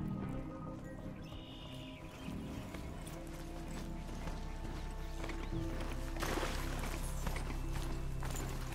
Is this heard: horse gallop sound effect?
yes